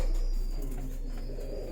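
Pigeons at a breeder's loft giving brief, low, throaty coos over a steady background hum.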